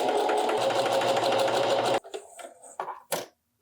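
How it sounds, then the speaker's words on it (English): A sewing machine stitches a seam across the top of a fabric tie top for about two seconds with a steady, close whir, then stops, leaving a few faint handling sounds. "We're gonna sew it together at the top."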